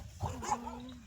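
A dog barks once, fairly close, amid a roaming pack of dogs outdoors, a short sharp yelp over low background noise.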